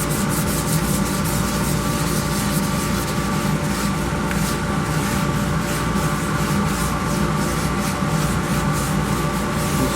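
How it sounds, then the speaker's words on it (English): Spalted wood is sanded as it spins on a woodturning lathe, giving a steady, loud, continuous rubbing hiss over the lathe's hum with a faint regular pulse and no talking. "Sand all this stuff out."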